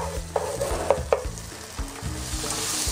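Ingredients frying for Korean black bean noodles (jajangmyeon), a loud steady sizzle close up with a few sharp scrapes and taps of a spatula stirring the pan.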